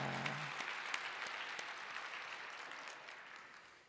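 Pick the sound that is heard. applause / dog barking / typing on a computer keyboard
applause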